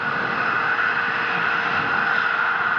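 The first stage engines of an H-IIB rocket launching the HTV-9 cargo craft keep firing as a steady, dense roar with no breaks.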